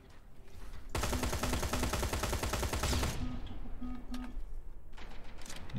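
An automated turret in Terminator Resistance fires a loud, sustained rapid burst lasting about two seconds, then smaller scattered shots and clatter follow amid game ambience.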